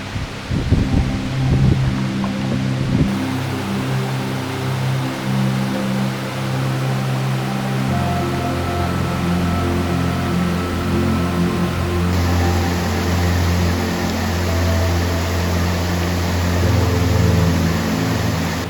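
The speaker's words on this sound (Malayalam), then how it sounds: "ഈ കാണുന്നതാണ് നീർവീഴ്ച വാട്ടർഫാൾസ്." A waterfall in the Gavi forest sends water sheeting over a flat, plain rock surface, making a steady, dense rushing roar that holds evenly for the whole stretch.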